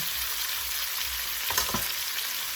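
Spices frying in a pan as the base for lamb shanks, a steady soft sizzle with a few brief stirring scrapes partway through, close and fairly quiet.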